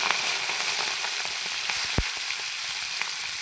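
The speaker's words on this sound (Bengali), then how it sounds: "খুব ভালো করে তেল গরম করে নিয়েছি। এবার দিয়ে দেবো চিংড়ি মাছ।" Prawns sizzle steadily in well-heated oil in a pan, a dense continuous frying hiss with scattered crackles and one sharp pop, no voices.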